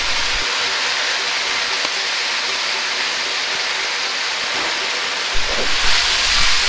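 Mapo tofu sears in a pan over high heat, a steady loud hiss of sizzling oil running throughout with no break, swelling slightly near the end.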